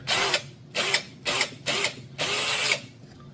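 Power drill, an impact model, whirring in five loud close bursts with brief pauses between, the last burst longest, during electronics scrapping.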